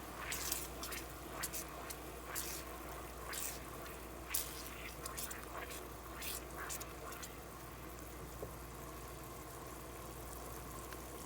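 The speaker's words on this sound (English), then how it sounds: "we're going to let this sit here and boil just like that for 4 minutes" Homemade pancake syrup boils in a pot, giving a soft, steady bubbling with scattered pops and bursts over a low background hum, faint and close.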